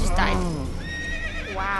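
A horse in the game Assassin's Creed lets out a loud, close whinny that rises and trails off, followed by a second shorter neigh near the end, with faint background game sound.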